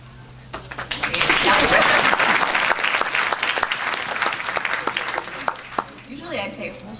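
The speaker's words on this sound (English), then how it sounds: "Usually I say, we'll hold our applause till the end, but why? Let's clap all the time." Festival audience applauding sponsors at an opening night screening, dense sustained clapping filling the room for several seconds before thinning out near the end.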